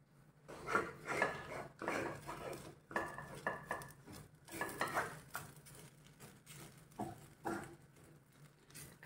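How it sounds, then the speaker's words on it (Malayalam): Upma sprinkled with sugar is stirred around a pan, a series of close scraping and clinking strokes of a spoon against the metal in uneven bursts, with a faint sizzle underneath and no voices. "ഇതെല്ലാം നന്നായിട്ടൊന്ന് ഇളക്കി കൊടുക്കാം"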